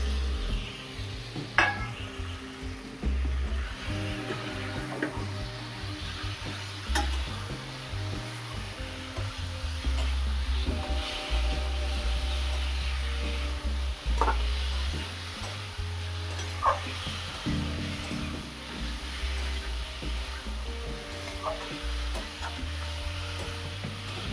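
Pre-fried potatoes sizzling and frying in a pan for aloo dum, with steady stirring, scraping and occasional utensil clinks against the pan throughout, close and continuous, without talk.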